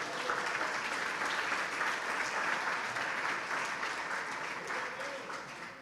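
Church congregation applauding during a sermon, a steady dense wash of clapping filling the whole span at even loudness, easing slightly toward the end.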